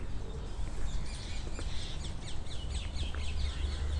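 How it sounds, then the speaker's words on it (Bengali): Birds calling at Feroz Shah Kotla among a large flock of feeding pigeons, with a run of chirps over a steady outdoor hum, moderately near and without talk. "একটা কি পাখির ডাক শুনলাম"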